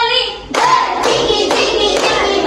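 Children in a classroom clap their hands in a loud burst of group clapping, sharp and close, with a short voice at the start before the clapping comes in strong rhythmic waves.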